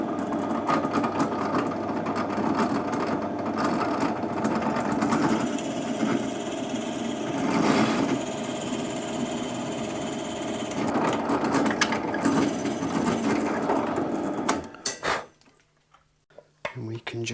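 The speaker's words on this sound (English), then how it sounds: "I'm going to take this one over to the drill press and get them both drilled in at the same time" A drill press bores bridge bush holes in a guitar body for a Johnny Ramone replica build, a sustained whirring motor drone with grinding bites into the wood that stops abruptly near the end, leaving a few faint clicks.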